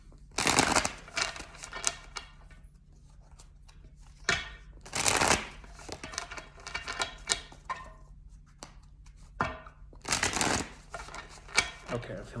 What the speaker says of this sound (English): Gonna give the tarot another shuffle.